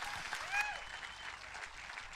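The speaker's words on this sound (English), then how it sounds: "Can we just give Rob just a round of applause?" Audience applause for Rob, a guest speaker at a church talk, a soft, steady patter of clapping heard from a distance with faint voices mixed in.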